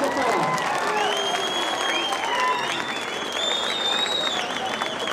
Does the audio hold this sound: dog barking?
no